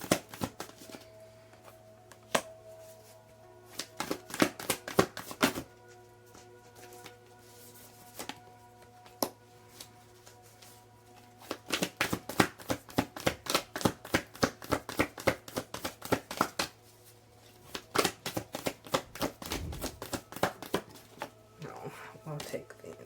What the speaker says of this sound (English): We're going to shuffle for a new card.